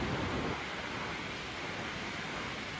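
Sea waves wash onto the shore at Alibag at night in a continuous, close, full-bodied roar of surf with no voices over it.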